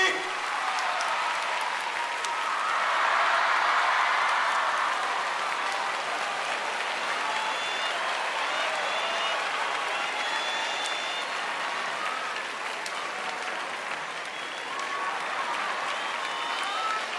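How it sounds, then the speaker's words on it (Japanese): Warm audience applause rises to a sustained roar as a performer named Matsudo Ayane is introduced at a stage show, dense clapping swelling early then holding steady and loud for many seconds. "皆さん温かい拍手で松戸彩音。"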